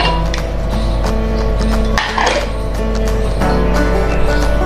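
Pressure cooker being opened after cooking rice for kheer, with metallic clinks and taps of the pot, lid and utensils against a steady loud hum. The clatter is close and peaks midway.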